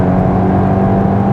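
A Volkswagen Golf, either a Mk8 GTI Clubsport or a tuned Mk7.5 Golf R, drives hard around a race track, its engine a loud, steady close-up drone accelerating near the top of third gear into fourth.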